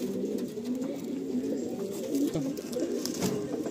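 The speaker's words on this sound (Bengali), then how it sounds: "ভাইয়ের যে কালো পায়রার কথা বলছিলাম, এই হচ্ছে কালো পায়রা।" Black Madrasi pigeons in a loft, steady overlapping low cooing from several birds close by, continuous throughout with soft rustling and no talk.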